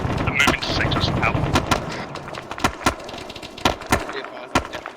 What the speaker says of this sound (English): I'm definitely hearing an auto cannon of some kind